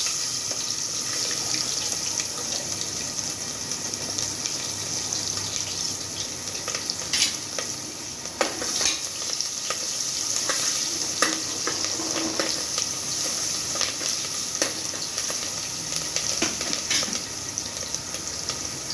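Onion fries in hot oil with hing for vaghareli khichdi, giving a steady hiss of sizzling with scattered crackles and a few sharper pops, and no talk.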